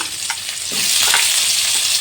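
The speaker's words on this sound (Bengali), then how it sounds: "আমি আলু দিয়ে দিলাম।" Pre-steamed potatoes tossed into hot oil in a pan sizzle steadily, the frying hiss swelling louder and denser after the first second and holding at that level close by.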